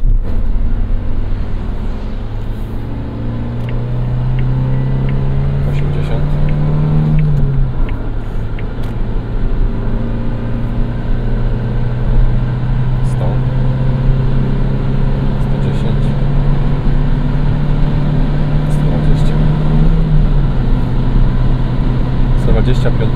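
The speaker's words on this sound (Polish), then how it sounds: "Przyspieszenie, jadę 50." A 2019 Suzuki Jimny with a five-speed manual gearbox accelerates, its engine drone rising in pitch through the gears with a gear change midway, steady rumble heard from inside the cabin.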